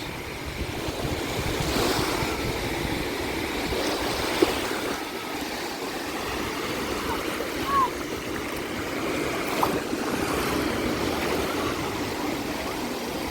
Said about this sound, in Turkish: Biz girerken daha büyük dalgalar vardı.